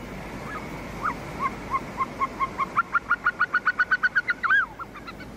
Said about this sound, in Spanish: Son los perdigallos caucasianos.